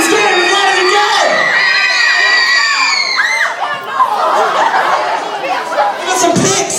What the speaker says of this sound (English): Go on, scream as loud as you can!